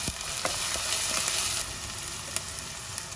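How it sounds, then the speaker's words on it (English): Chopped onion and curry leaves fry in hot oil in a pot for misal, a steady close hiss and sizzle with occasional stirring clicks, no voices. "when the oil is hot, add chopped onion"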